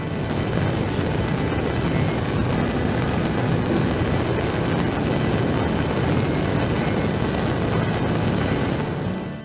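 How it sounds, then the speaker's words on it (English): A Bunsen burner's non-luminous blue flame roars steadily, a loud continuous rushing noise that holds unchanged for about nine seconds with no voices. "This is the reason why the non-luminous flame is sometimes called the roaring blue flame."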